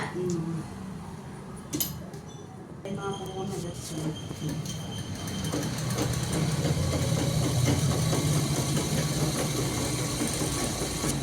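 A sewing machine stitches in rapid, steady bursts that grow denser and more continuous, with voices talking over it in the first few seconds.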